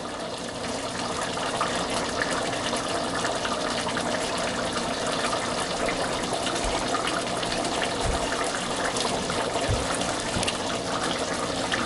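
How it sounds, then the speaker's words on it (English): A pot of water for pasta e fagioli heats toward a boil, giving a dense, steady, close rushing and bubbling wash that holds evenly for about twelve seconds without speech. "there are definitely bubbles coming up, so I think it's probably at or near the boiling point that I want it to be"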